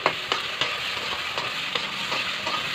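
Spice paste of turmeric, salt and chilli powder, splashed with water, sautéed for a prawn and taro curry, heard as a constant close sizzle with rhythmic scraping stirs about every third of a second.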